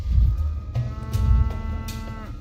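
A bull in Pathologic 3 lets out a deep, close, drawn-out moo lasting a couple of seconds, loud and alone with no voices over it.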